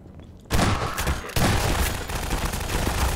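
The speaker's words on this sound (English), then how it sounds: "I had my shotgun out, I shot twice" Shotgun blasts in Half-Life 2: Lost Coast, two loud close shots in quick succession, each a heavy boom with a rolling tail, no talking.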